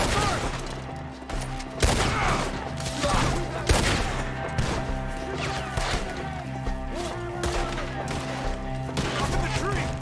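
Gunfire during a Red Dead Redemption 2 shootout against enemies up in the trees: scattered loud shots and crashing impacts over ten seconds, layered with game music and shouting voices.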